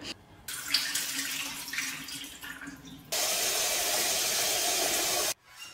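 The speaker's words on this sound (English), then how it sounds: "I'm going to drain the water, adding in fresh water" Tap water runs into a bowl of soaked kabuli chickpeas, first a splashing trickle, then a steady full hissing stream for a couple of seconds before it cuts off.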